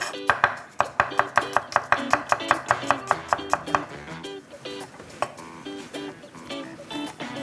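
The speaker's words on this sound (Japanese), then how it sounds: "にんにくはみじん切りに。" Garlic is minced with a knife on a cutting board: a fast, even run of crisp close chops, then a looser, irregular string of taps after a pause.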